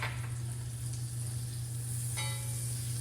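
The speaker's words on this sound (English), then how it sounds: "some butter that I'm gonna melt" Butter melting in a hot pan beside seared salmon, giving a soft steady sizzle and hiss over a constant low hum, close and moderately quiet, with a brief brighter crackle partway through.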